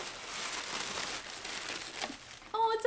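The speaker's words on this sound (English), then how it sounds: "unwrap this." Crinkly wrapping is pulled off an individually wrapped hat from a summer subscription box, a near continuous papery rustle that ends in a brief voiced sound.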